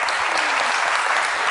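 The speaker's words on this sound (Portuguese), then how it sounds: "uma salva de palmas para vocês" A TED talk audience gives a dense, loud round of clapping, continuous and close, with no speech over it.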